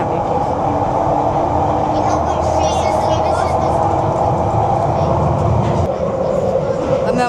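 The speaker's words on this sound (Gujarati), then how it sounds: "ટ્રેનમાં બેસી ગયા છે. આ છે ને અંડરગ્રાઉન્ડ ટ્રેન છે." Riding aboard a London Underground train: a steady loud rumble and rattle of the carriage with squealing wheel tones, while people talk quietly inside the car.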